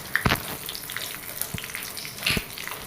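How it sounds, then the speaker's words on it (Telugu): Five or six dried red chillies frying in hot oil for tomato dal tempering, a continuous close sizzle with a few louder crackling bursts and light stirring. "ఎండుమిర్చి వేసుకోండి ఒక ఐదు ఆరు ఇవి కూడా దోరగా ఫ్రై అయ్యేంత వరకు ఫ్రై చేసుకోండి"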